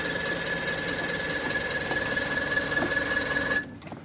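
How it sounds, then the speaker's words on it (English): A small boat engine on Weyakwin Lake is primed and started, giving a steady mechanical whirring drone with a thin high whine that runs evenly and then cuts off abruptly near the end. "Prime the engine."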